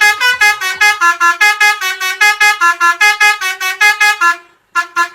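Indonesian bus telolet horn honking in a rapid melodic run of loud, bright, multi-tone blasts, a dozen or more in quick rhythm, pausing briefly before a final pair of toots.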